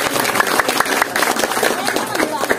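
An audience at a book launch talk for translated Babad Banyumas chronicles breaks into dense, loud applause, sustained clapping from many hands with some voices mixed in.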